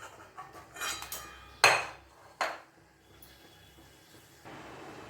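Boiled fish dumplings lifted out of a cooking pot in a home kitchen: a few sharp clanks of utensil against metal pot and spoon scrapes, with quieter rustles between, close and alone.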